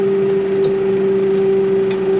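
A Farmtrac 9120 DTV tractor engine runs steadily, a loud, even drone with a strong constant hum and no breaks or voices.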